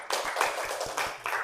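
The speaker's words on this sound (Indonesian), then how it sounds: "Tepuk tangan dulu." A short burst of applause, many hands clapping together in a dense, steady patter that carries on for the whole moment.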